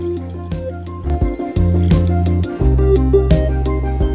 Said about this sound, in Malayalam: ഇനി നമുക്കിതിലേക്ക് ബാക്കിയുള്ള വെള്ളം കൂടെ ഒഴിക്കാം.